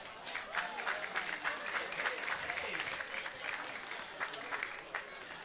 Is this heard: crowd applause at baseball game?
yes